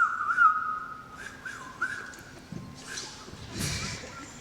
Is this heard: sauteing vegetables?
no